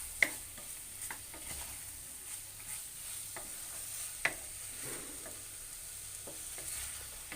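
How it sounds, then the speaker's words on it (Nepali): Spiced potatoes for Nepali alu dam stirred in a pan with chili powder, scattered soft scrapes and clicks of the spoon over a faint sizzle, with one sharper knock partway through. "यसलाई मजाले चलाइदिने"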